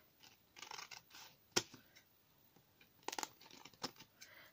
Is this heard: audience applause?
no